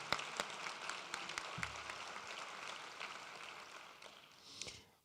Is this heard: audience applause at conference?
yes